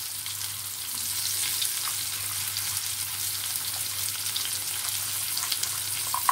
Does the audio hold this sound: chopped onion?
yes